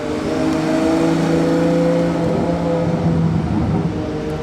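A Ferrari 812 Competizione engine running steadily close by, a deep droning hum with slight variations in pitch but no sharp revving, without any talking.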